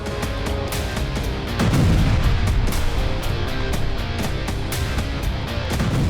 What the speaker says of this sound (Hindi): यूक्रेनी सेना ने यहां ब्रैडले और हाइमार्स से भीषण प्रहार किया